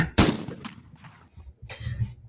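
A sharp, loud gunshot sound effect from a Glock pistol cracks at the start, followed by a few fainter bursts and a second strong hit near the end.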